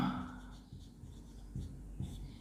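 Writing on a board during an English grammar lesson, a few short scratchy strokes close by and fairly quiet, without talk.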